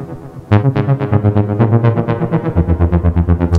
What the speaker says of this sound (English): Finally, we go to the arpeggiator and turn it on with a 1/16th rate.